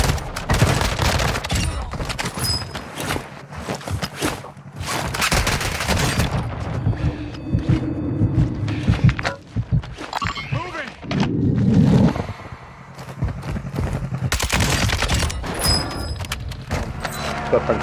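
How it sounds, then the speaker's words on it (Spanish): Rapid bursts of video game gunfire in a tower-camping shooter match come and go in loud volleys, with a voice talking over much of the action. "Están esperando a los tiros y todo."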